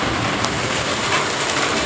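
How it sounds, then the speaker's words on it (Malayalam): Light rain patters steadily in a dense, even hiss, with no distinct drops or pauses standing out. "ഇവിടെ മഴ പെയ്തിരിക്കുകയാണ് നല്ല മഴയൊന്നുമില്ല കുഞ്ഞു മഴകളേ ഉള്ളൂ"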